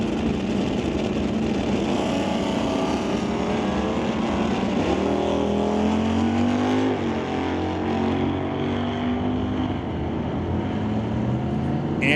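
Drag racing cars with National Tire Non-Electronics class entries at a Lordco event, a loud sustained engine roar with rising and falling pitch as the cars accelerate down the strip, no talk audible.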